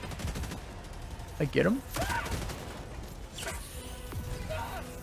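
Laser weapon fire in the video game Helldivers 2, repeated zapping shots and mechanical clatter mixed with game effects, while a player speaks briefly over the action.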